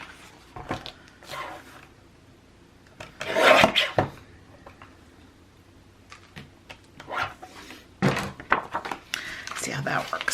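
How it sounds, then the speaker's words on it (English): Paper edges of a handmade traveler's notebook journal being trimmed and handled: intermittent scraping, rasping cuts and soft thunks in irregular bursts, close by, with a person talking quietly between them. "I'm going to trim this one down just a little bit more on the edge."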